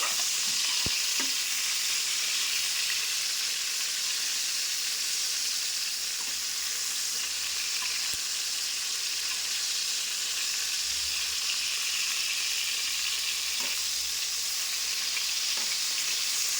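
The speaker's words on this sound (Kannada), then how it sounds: "ಈ ಕಡೆ ನಮ್ಮ ಬದನೆಕಾಯಿ ಕೂಡ ಫ್ರೈ ಆಗ್ತಾ ಇದ್ದಾವೆ" Pieces of brinjal (eggplant) fry in hot oil for a brinjal curry, giving a loud, continuous, close sizzle with occasional faint stirring clicks and no talking.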